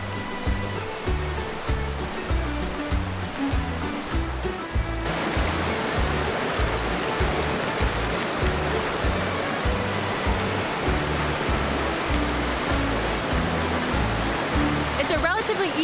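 Donut Falls in Utah pours steadily, a dense, constant roar of rushing water heard close up without pause.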